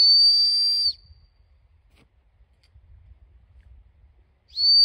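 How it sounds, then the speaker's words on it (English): A loud, piercing dog-style whistle blown outdoors in a cold meadow, two shrill steady blasts, one about a second long at the start and another beginning near the end, separated by near silence with faint low rumble. "I've got a whistle, like a dog whistle of some sort."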